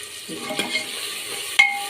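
Spices frying in a pan for potato and chickpea curry, a soft sizzle under a few scrapes of a spoon, ending with a sharp metallic clink near the close.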